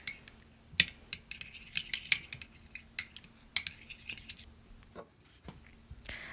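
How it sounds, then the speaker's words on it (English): A small utensil stirs oil into an aloe vera lip balm mixture in a little container, producing close, rapid clicks and scrapes in uneven bursts against a quiet room with no voices. "And now I'm just gonna mix it in"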